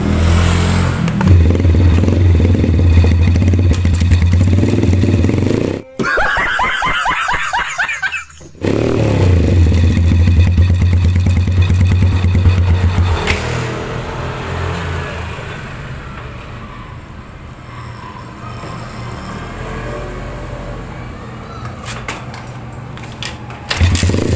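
An engine driving a newly fitted axle on an improvised winch idles and runs steadily at close range, with a brief clattering burst midway, then settles into a lower, quieter hum.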